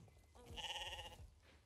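A single sheep in the video game Star Stable Online gives one clear, wavering bleat lasting about a second, close and alone over faint background sound.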